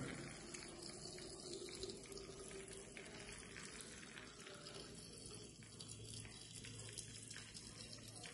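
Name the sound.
water being poured into a pot of salted raw mango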